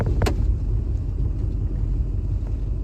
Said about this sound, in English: So I'm trying to drive around this truck here.